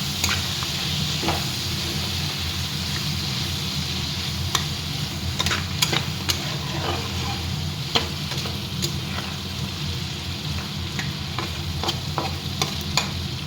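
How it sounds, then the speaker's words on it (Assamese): Salted mutton stirred in a pressure cooker pot, a steady sizzle of frying meat with repeated scraping and clinking of the spoon against the metal, close and continuous. "ভালদৰে লৰাই ল'ম।"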